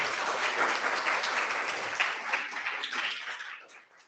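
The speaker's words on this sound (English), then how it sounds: "a big round of applause for Ramsey" An audience at a keynote talk claps loudly and steadily for the speaker, a dense roomful of applause that holds strong for a few seconds before tapering off, with no voices over it.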